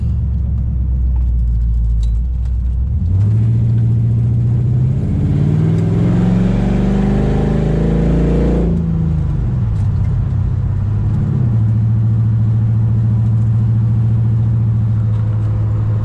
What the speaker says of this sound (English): That's the fastest I've had this car up to so far.